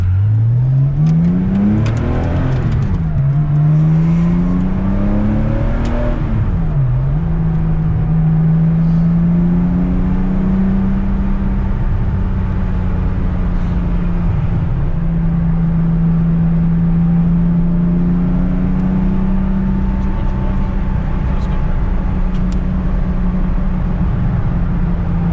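A 1977 Porsche 911 RSR tribute, engine heard from inside the cabin, climbs through revs in a couple of gear pulls, then settles into a steady loud drone while cruising, with no talking.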